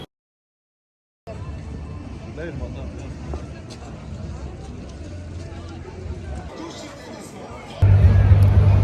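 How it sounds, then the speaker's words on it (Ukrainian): Crowd noise in Zagreb after Croatia's World Cup win, a continuous murmur of many voices outdoors with some street sounds, and a louder low hum near the end. "по цьому звуку шуму натовпу можна зрозуміти, що Хорватія виграла"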